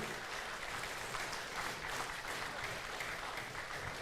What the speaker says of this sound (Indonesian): beri tepuk tangan untuk ketiga calon bupati dan wakil bupati Bangli